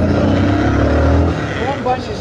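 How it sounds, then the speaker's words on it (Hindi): Busy road traffic on the way to Hazratbal Dargah in Kashmir, with steady vehicle engine rumble close by and cars moving in congestion, continuous throughout with speech partly overlapping. "ओ भाई ट्रैफिक हो रहा है अभी यहाँ पे"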